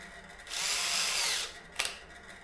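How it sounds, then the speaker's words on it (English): Power drill running a countersink on a Husqvarna FC250 fuel pump part, one close whirring burst of about a second, followed by a sharp clack as it stops. "we'll just quickly run the countersink again"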